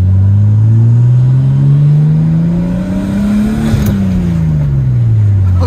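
A Nissan 240SX with an RB25 engine revs steadily higher under acceleration, then drops back as it shifts, a loud close rumble with road noise throughout.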